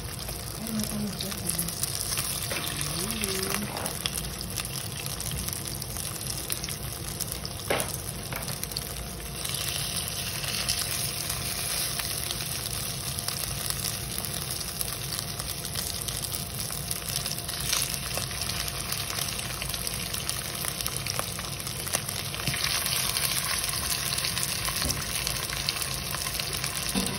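Soaked fish pieces fry steadily in a pan, a continuous close sizzle and hiss with small pops that holds at an even level throughout.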